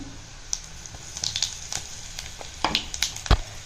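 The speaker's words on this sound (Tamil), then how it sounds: "இப்போது கடுகு வெடிக்கிறது" Mustard seeds spluttering in hot oil for a Tamil kuzhambu tempering, with scattered sharp pops and crackles over a soft sizzle, a burst of louder pops toward the end.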